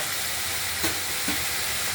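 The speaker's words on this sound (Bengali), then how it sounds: "তেলে ভাজা হবে ফুলকপিটা" Steady, hissing sizzle of cauliflower frying in hot oil, close and continuous, with a couple of faint clicks and no talking.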